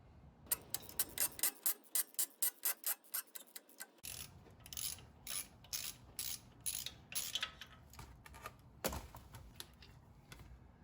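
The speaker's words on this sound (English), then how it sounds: "I actually found a combination of wrenches that got the nut and bolt off on the forward side of this" Ratcheting wrenches loosen a nut and bolt on the shock mount of a 1997 Jeep TJ, producing close, crisp mechanical clicks in quick rhythmic bursts with short pauses between them and no talking.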